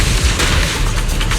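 Video game gunfire and explosions in Zenless Zone Zero: a dense, continuous barrage of heavy booms and rapid shots rumbling loudly without pause throughout.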